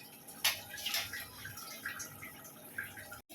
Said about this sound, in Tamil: ஒரு டம்ளர் அரிசினா ரெண்டு டம்ளர் தண்ணி வைக்கணும்